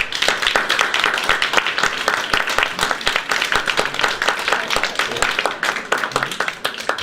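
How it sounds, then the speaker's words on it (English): An audience applauds Graham, dense steady clapping with sharp individual claps standing out, close and lively throughout and tapering slightly near the end. "Big round of applause for Graham, please"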